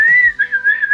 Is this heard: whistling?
yes